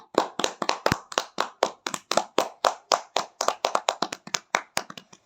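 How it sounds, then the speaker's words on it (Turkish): Children in a classroom clapping for their classmates, a quick run of about two dozen sharp, distinct claps in a fairly even rhythm, close and clear with quiet gaps between. "Hadi bir alkış yapın arkadaşlarınıza."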